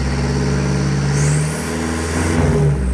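A Toyota N70 Hilux with a Legendex Berserker exhaust revs up close, a deep rumbling idle rising twice into short revs before settling back.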